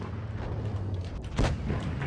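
A single tank cannon shot in World of Tanks lands as a sharp, booming report partway through, set against steady battle ambience and engine rumble.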